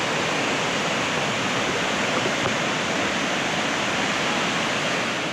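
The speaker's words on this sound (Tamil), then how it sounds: "என் கூட சேர்ந்து நீங்களும் இந்த வாட்டர் ஃபால்ஸ் பார்த்துட்ருக்கீங்க" A hidden waterfall in Kotagiri roars with a dense, unbroken rush of falling water, loud and close, holding even throughout with no voices over it.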